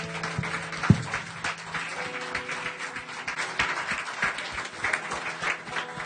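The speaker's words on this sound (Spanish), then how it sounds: "Fuerte el aplauso para el Señor." A church congregation applauds during an evening Spanish-language service, scattered clapping with some sharp isolated claps, moderately loud, mixed with a little background murmur.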